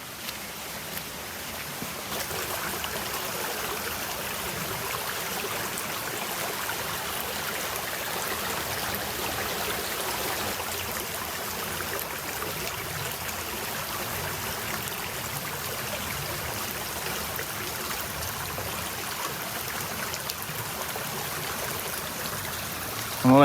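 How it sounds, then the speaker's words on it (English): Water in a stream flows through Appalachian mountain woods with a steady, even rush, continuous and moderately close for the whole stretch, with no voices over it. "we have came upon some water here"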